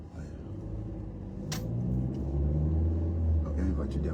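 A car approaches from behind and passes, its engine rumble swelling to a loud, close low drone in the second half, with a brief knock partway through.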